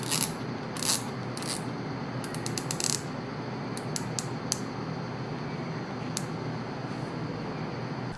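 The rotating bezel of an Omega Seamaster Diver 300M is turned in short bursts of crisp, close ratcheting clicks, some rapid runs and some single ticks, over a quiet room.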